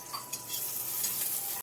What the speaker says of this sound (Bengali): এখন বাবা আলু ভাজা করছে